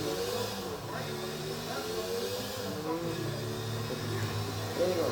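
A motorcycle engine revs in the game GTA 4, a steady mid-pitched drone with rising and falling tones running under faint background noise and possible talk.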